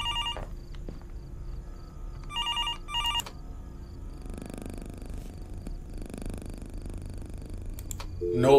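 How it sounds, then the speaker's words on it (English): In the horror game Fears To Fathom: Norwood Hitchhike, a telephone trills in a couple of short ring bursts early on, then gives way to a low hum, soft rustling and a rising noise at the end; no talking. "I thought the phone didn't work."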